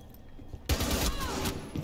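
Gunfire in Rainbow Six Siege: a sudden, loud rapid burst of shots that breaks a quiet moment and keeps rattling for about a second, with a few scattered cracks trailing after it.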